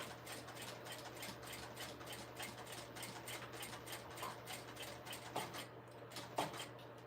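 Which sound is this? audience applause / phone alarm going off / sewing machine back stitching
sewing machine back stitching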